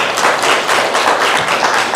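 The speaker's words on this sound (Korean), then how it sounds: "하나님께 영광의 박수 올리겠습니다." A church congregation at a Sunday morning worship service claps together loudly and continuously, a dense, rhythmic wash of hands that fills the whole short stretch.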